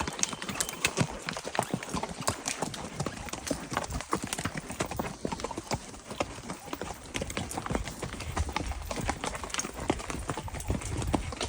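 Horse hooves clip-clop in a brisk, continuous rhythm, several ridden horses including a Missouri Foxtrotter gelding moving together at a steady pace outdoors.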